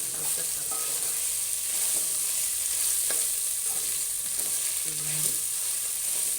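Ginger pieces frying in oil in a pan for a colocasia stew, a steady hiss of sizzling with a few soft scrapes of stirring, close and continuous.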